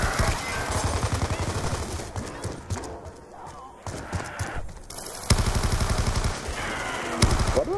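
Rapid gunfire from Call of Duty Black Ops 2 Zombies on the Transit map, bursts of shots mowing down zombies, loud and dense with gaps mid-clip before heavy firing resumes.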